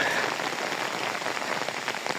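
Steady rain patters densely on leaves and surfaces outdoors in a forest, a continuous close hiss of drops with no voices.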